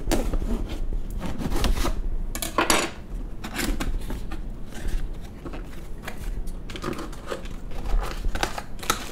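Cardboard packaging of an Iomega Prestige 1.5TB external hard drive in aluminum casing being opened, with close, steady rustling, rubbing and scraping of box flaps and contents, plus a few sharper knocks and tears.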